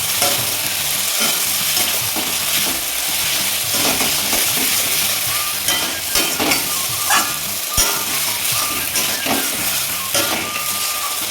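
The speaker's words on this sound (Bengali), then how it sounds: "আমাদের দেশি চিকেনটা দিয়ে দেবো। দেশি চিকেনটা দেওয়ার পরে অনবরত নাড়তে থাকবে।" Desi chicken being stirred nonstop in hot spiced oil in a pan, a continuous loud sizzle with rhythmic scraping and stirring strokes throughout.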